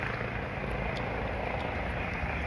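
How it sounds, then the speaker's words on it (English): A helicopter coming in to land at a hospital makes a faint, distant, steady rotor drone with a soft rhythmic thump, continuous and fairly quiet. "there's a helicopter landing."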